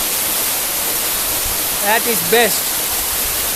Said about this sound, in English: Standing near Mana Waterfall, as you can see, this is Mana Waterfall.